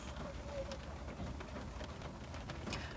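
Rain falls heavily outdoors as a steady, fairly faint wash of noise with scattered drop ticks, under light background sound.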